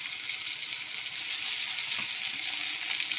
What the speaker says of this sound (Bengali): মশলাটা একটু কষা হয়ে গেছে, আমি এর মধ্যে দিয়ে দেবো আদা বাটা, আর দিয়ে দেবো 1 চামচ কাঁচা লঙ্কা বাটা